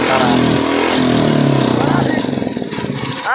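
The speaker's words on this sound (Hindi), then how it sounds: "बाइक मेरा बिल्कुल स्टार्ट है" Royal Enfield Bullet engine running with a worn hydraulic tappet and poor oil flow, a loud close steady thrum with a rapid ticking pulse that grows choppier toward the end, with no speech over it.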